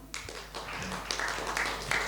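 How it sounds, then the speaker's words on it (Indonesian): An audience at an ITB alumni association event claps in a brief, fairly quiet burst of scattered applause, light taps heard at a distance over a low room hum. "Boleh tepuk tangan?"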